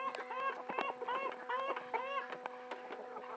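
A rooster clucks in a rapid run of short, close calls while the farmyard flock is offered black soldier fly larvae, with faint background voices.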